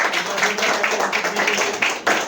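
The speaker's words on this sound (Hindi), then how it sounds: "एक बार जोरदार तालियां रेखा जी के लिए" An audience applauds for Rekha ji at a Smart Value plan-show event in Delhi, a dense continuous clapping that swells slightly toward the end.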